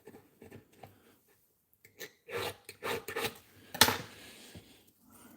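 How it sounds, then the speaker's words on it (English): A rough edge on a custom lock pick is filed by hand in a workshop: a few faint scrapes give way to a run of quick, rasping strokes, close and moderately loud, ending with a sharper scrape before trailing off. "There looks to be a little bit of a rough edge on there, so I'm going to file that as well"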